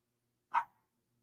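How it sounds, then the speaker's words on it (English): A dog gives a single short, faint bark in an otherwise quiet room. "She's going to bark."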